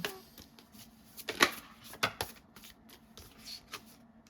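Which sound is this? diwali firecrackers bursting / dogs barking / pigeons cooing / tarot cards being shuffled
tarot cards being shuffled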